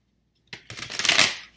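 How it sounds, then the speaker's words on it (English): Tarot cards being shuffled by hand, a short burst of crisp riffling and flicking after a moment of silence, close and fairly loud, building briefly before fading. "We gotta shuffle this one better before"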